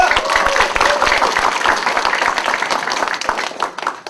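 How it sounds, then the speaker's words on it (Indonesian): An audience applauds at an indoor seminar, a dense and loud wash of clapping that holds steady and then tapers slightly. "Aplaus sekali lagi untuk kita semua Pak."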